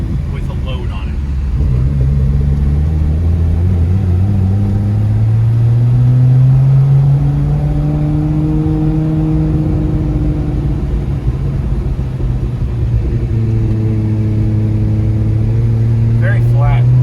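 A Nissan R32 GT-R fitted with HKS Hipermax S suspension takes a slow lap around a warehouse, its engine droning steadily up and down in pitch with a rising and easing tone, close and loud throughout.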